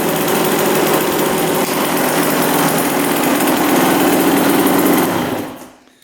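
A 2-stroke dirt bike engine, just repaired after a bad spark plug and loose coil wire connection, runs loud and steady at high revs with a buzzing, raspy tone, holding for about five seconds before cutting off abruptly.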